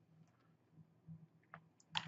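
A few keys are tapped on a computer keyboard while a spreadsheet formula is entered, sparse quiet clicks building to a brief louder cluster at the end, no talking.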